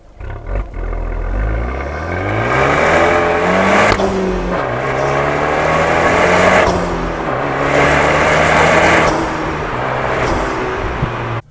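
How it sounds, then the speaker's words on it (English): Fiat 124 Abarth with its stock exhaust, engine revving hard in repeated rising and falling pulls, recorded up close with mics on both exhaust and engine; loud, continuous roar with no talking. "here's both the exhaust and the engine mic'd up"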